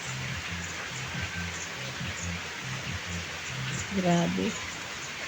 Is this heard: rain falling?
yes